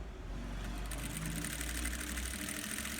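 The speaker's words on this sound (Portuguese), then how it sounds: "Dá um bom retrocesso aqui na borda do bolso, porque é a parte que vai ser mais exigida" A sewing machine backstitching along the pocket edge of a fabric car trash bag with an organizer pocket, its motor humming in a steady, fast, continuous whir, close and alone.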